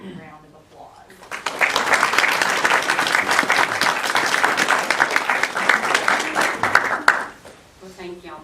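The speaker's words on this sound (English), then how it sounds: "I personally think they deserve a very big round of applause." Audience at a school district board meeting breaks into loud, sustained applause lasting about six seconds, with brief talk just before and after.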